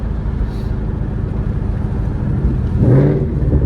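Ford Mustang with an upgraded exhaust rev matching, a throaty engine note that rises in a quick blip over steady road rumble.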